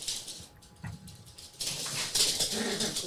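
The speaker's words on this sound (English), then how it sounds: "Probably hear my dogs going bananas in the background." Several dogs bark and yelp excitedly somewhere in the background, faint and intermittent, with short bursts and gaps between them.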